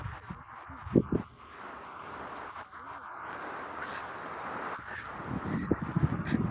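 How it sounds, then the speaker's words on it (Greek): Steady wind rushes and buffets across the microphone throughout, with a few louder gusts and rustling bursts. "Άρχισε πάλι αυτός ο αέρας."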